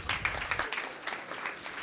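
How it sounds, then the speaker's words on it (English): A college quiz event audience gives brief, light clapping at moderate distance, short and scattered rather than full. "I want everybody to clap, please."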